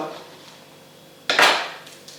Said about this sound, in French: Je prends un citron, je le coupe.